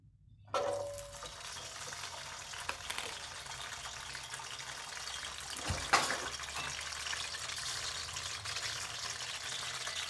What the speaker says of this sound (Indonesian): Setelah minyaknya panas, masukkan bawang putih